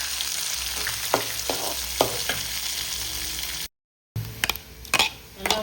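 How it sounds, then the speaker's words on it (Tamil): Onions sauté in a pan for masala dosa, a continuous loud sizzle broken by the scrape and knock of a utensil stirring, with a short dropout of silence partway through. "வெங்காயமெல்லாம் நல்லா வதங்குது."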